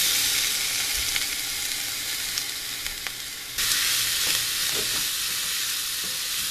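Boiled, flaked shark fish puttu mixture sautéing in a hot pan, a continuous loud sizzle with occasional scraping stirs, the hiss briefly dipping before resuming.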